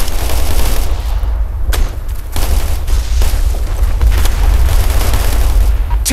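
Operation Flashpoint: Red River combat brings loud, dense gunfire in rapid overlapping bursts and heavy booming explosions, all close and continuous, with sharper blasts standing out.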